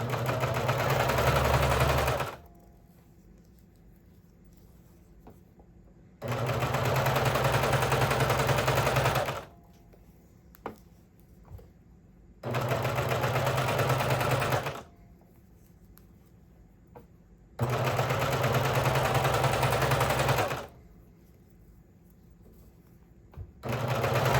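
A sewing machine hems and topstitches a swimsuit in loud, steady whirring bursts of a few seconds each, separated by quiet gaps with small clicks and fabric handling.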